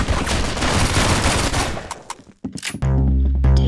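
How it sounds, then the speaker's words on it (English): Double-barrel shotgun blasts in a video game ring out loud and close, a dense volley of gunfire followed by sharp separate shots and a sustained roar at the end, with no talking. "Double barrel shotgun."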